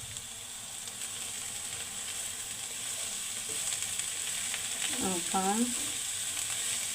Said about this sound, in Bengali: থানকুনি পাতাগুলো দিয়ে একটু ভালোভাবে নেড়ে ছেড়ে নিব